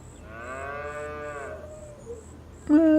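Cows in the farming game Farm Sim 25 give a long, clear moo lasting over a second, followed by a quieter pause and then a short, louder second moo close by.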